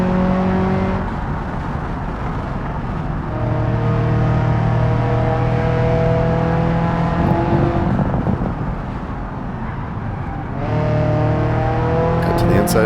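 Ibishu 200BX car engine revving and shifting through gears on a video game racetrack, a loud close engine note rising and falling continuously, with a person talking over it.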